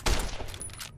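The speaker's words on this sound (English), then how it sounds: "I did not mean to shoot." A single gunshot from a firearm in the Fallout: New Vegas video game, one sharp crack near the start with a brief rumbling tail, no talking.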